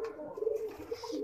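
Washi pigeons cooing softly close by, with a low, wavering coo rising and falling over about a second, faint and alone.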